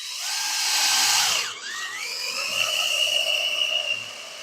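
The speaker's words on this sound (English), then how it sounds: "So we're going to take our drill now." A power drill whines at high pitch while drilling a pilot hole in an excavator pin or bushing, briefly stops, then spins up again and keeps boring steadily without lubricant, close and fairly loud.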